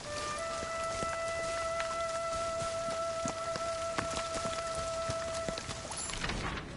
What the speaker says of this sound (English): I love how refreshing the cool raindrops feel.